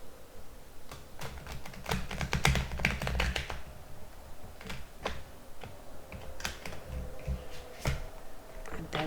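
A holographic tarot card deck being shuffled up close, a run of crisp riffling taps and flutters in the first few seconds followed by scattered lighter card clicks and slides.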